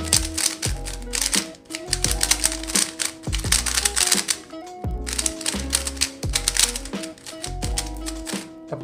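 An old magnetic DIY Yuxin Little Magic puzzle cube being turned, a dense looped stream of quick clicky, plasticky snaps and clacks, close and busy with no speech.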